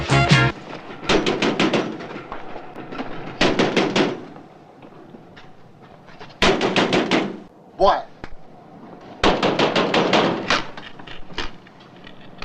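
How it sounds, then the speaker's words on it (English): Loud bursts of repeated banging on a door come in several clusters of rapid blows, separated by short quiet gaps, with a brief spoken exclamation between them. "the only noise I've heard, lady, is you banging on the door"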